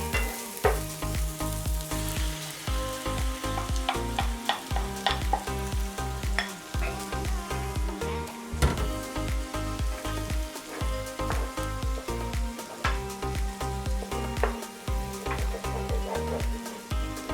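Eggs scrambled in hot oil in a frying pan for egg fried rice give a steady, loud sizzle with crackling spits and stirring scrapes throughout, over a rhythmic tonal backing.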